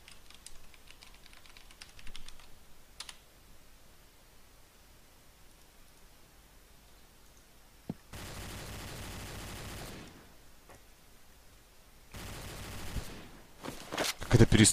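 A gunfire exchange in a Counter-Strike match: two sustained bursts of loud automatic fire, a couple of seconds each, rise over a low background hiss and scattered faint shots.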